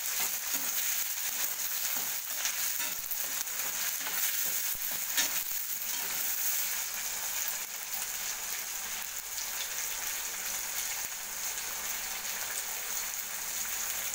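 Brinjal sautéed with curry leaves and tomato in oil in a pan, a continuous close sizzling and crackling frying sound throughout, no voices.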